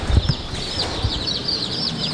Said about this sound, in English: And inside this trailer we have some chickens.